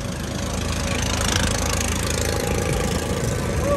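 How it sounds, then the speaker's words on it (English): A vehicle with a Toyota engine in Sylhet, Bangladesh runs at a steady, close drone with a rough, even rumble and no change in pitch, loud throughout. "that had a bloody Toyota engine again"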